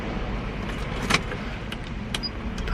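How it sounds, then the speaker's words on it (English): A car's electric window is raised, giving a short, soft motor whir inside the cabin over low engine rumble, with a couple of faint clicks. "put the window up at least."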